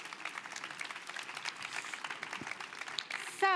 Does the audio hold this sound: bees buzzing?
no